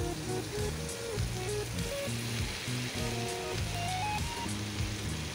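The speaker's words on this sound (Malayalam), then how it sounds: "ഇനി ഇതിലേക്ക് നമുക്ക് അരിഞ്ഞു വെച്ചിരിക്കുന്ന വഴുതനങ്ങ കൂടി ചേർത്ത് കൊടുക്കാം." Brinjal and potato pieces frying in a pan for a brinjal masala, giving a steady hiss and crackle with soft stirring scrapes and a continuous tonal hum behind it, no voices.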